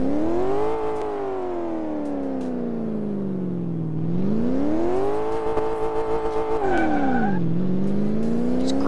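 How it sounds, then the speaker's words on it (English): A car engine in Car Mechanic Simulator 2 revs up and down repeatedly, rising and falling in pitch with sustained loud drones, close and continuous with no talk. "Now, what does this sound like revving up?"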